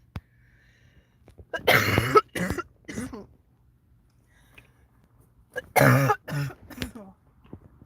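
Two separate bursts of harsh, close coughing, a few seconds apart, each a quick cluster of hacks in an otherwise quiet room.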